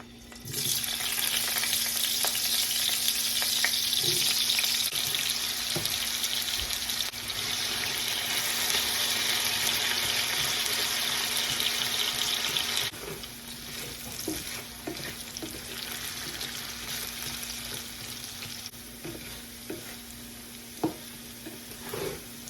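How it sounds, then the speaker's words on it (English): Potatoes, peeled and cut, frying in a pan on a home kitchen stove, giving a steady loud sizzle that runs throughout and eases slightly partway, with occasional clinks and stirring noises and no talk. "let's start frying these babies"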